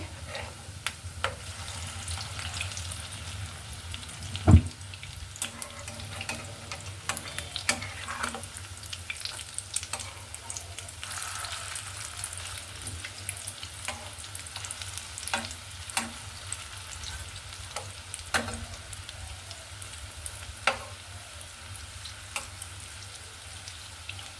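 Egg and onion pakoras fry in hot oil with a continuous crackling sizzle, broken by occasional sharp pops and utensil clicks as they are turned. There is no speech.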